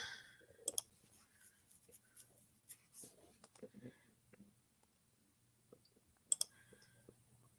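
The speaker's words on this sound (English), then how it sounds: "I'm mad you can hear every mouse click." Computer mouse clicking in sharp, isolated ticks scattered across a quiet room, some louder double clicks, with faint soft murmuring in the background.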